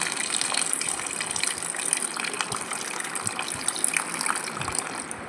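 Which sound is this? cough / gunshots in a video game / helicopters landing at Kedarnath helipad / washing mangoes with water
washing mangoes with water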